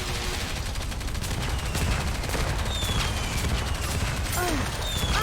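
Sustained rapid-fire gunfire from the shooter game Nikke: Goddess of Victory rattles on loud and dense throughout, with shots, booms and game effects layered together and a brief voice line underneath.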